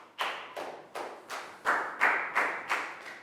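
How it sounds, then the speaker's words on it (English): A classroom bursts into a round of applause for a student, eight or nine strong rhythmic waves of clapping hands, close and lively, with no talking over it. "big round of applause for Chu"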